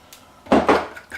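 A utensil quickly stirs eggs in a bowl for apple rhubarb muffin batter, making two or three close clinks and scrapes in about a second.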